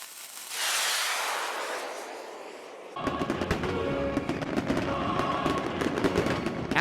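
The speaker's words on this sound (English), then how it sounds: "Nothing big, just some regular firework displays." Firework display bursts for the Fourth of July: a rushing hiss swells, then a rapid crackling barrage of many sharp pops and bangs follows, loud and continuous.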